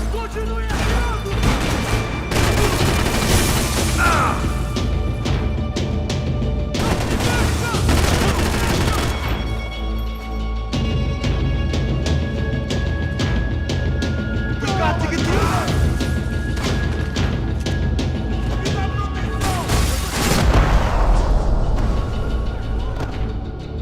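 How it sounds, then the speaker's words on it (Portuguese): Sustained gunfire from the Max Payne 3 video game, with dense rapid volleys, crashing impacts and booms filling the whole stretch at high volume, while voices shout over the constant shooting. "Me dá cobertura! Continue atirando!"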